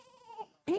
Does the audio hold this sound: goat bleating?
yes